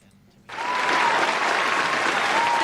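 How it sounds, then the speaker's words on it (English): A studio audience bursts into loud, sustained applause after a quiet moment, the clapping holding steady and dense to the end. "The crowd goes crazy."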